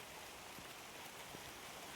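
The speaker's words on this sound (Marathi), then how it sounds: "हा पाऊस जो आहे हा भिजण्याचा पाऊस नाहीये" Steady, soft hiss of unseasonal March rain falling, with no voices and a faint patter of a few distinct drops.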